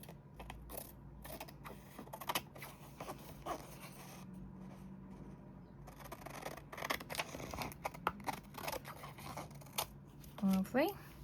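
Scissors snipping along the edge of a forget-me-not journaling card, soft repeated close cuts and paper rustling under quiet talk, ending with a couple of louder handling sounds.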